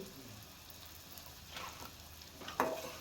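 Spice powders, black chilli powder, byadgi chilli powder and mutton masala frying in a pan for a mutton fry: a faint, low sizzle with a couple of soft stirring scrapes and one sharper clink near the end.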